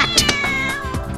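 A cat in a children's story meows and caterwauls in short, close, loud wails that run over a busy musical background.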